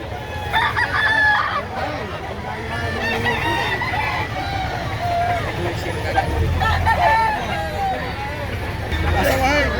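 A Boston Black bullstag gamecock crows amid other chickens clucking at a busy outdoor poultry market in Lipa, Batangas, with crowd babble, people talking and a car passing.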